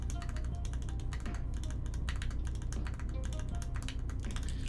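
Typing on a custom-built Iron 165 mechanical keyboard, a fast, dense run of crisp clacky keystrokes heard up close, steady throughout with no talk.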